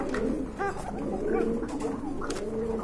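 A Bashiraj pigeon calls with repeated soft, thin coos, clearly audible over a steady background hum, with no talking.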